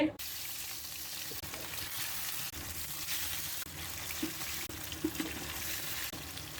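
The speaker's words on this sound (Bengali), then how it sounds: "এখন আমি মেখে রাখা আইর মাছগুলো ভেজে নেব।" Marinated aair river fish frying in hot oil in a wok: a steady broad sizzle and hiss with a few soft pops and clinks, close and constant, with no talking.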